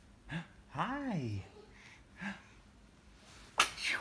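A baby's tiny sneeze bursts out near the end, a sharp close breathy snap after softer gasping breaths and an adult's voice cooing earlier.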